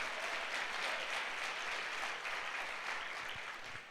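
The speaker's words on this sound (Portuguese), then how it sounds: "Então dá um aplauso a Jesus." A church congregation applauding, a sustained wash of many hands clapping at a steady level for several seconds, heard at a distance.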